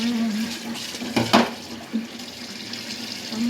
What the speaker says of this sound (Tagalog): Ingay pala ng ng tubig.